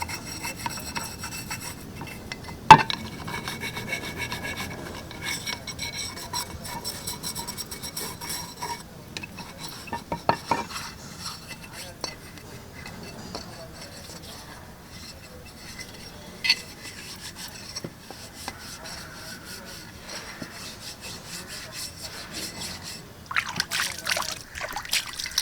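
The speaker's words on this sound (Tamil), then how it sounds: "இந்த இடுக்குலலாம் நல்லா இந்த ப்ரெஷ் வச்சு தேய்ங்க" A brush scrubs the crevices of a pressure cooker, giving continuous close rubbing and scraping with occasional clanks and quiet talk in between.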